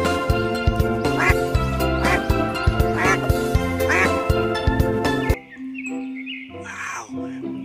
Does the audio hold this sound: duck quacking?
yes